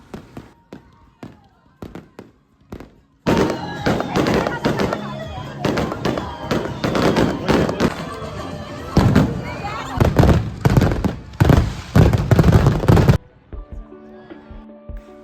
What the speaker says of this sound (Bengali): এখানে ফায়ার ওয়ার্কস হচ্ছে